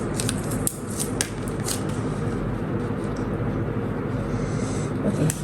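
Scissors snip through corset blouse fabric in a few crisp cuts early on, followed by a steady, close rustling scrape of blades and cloth.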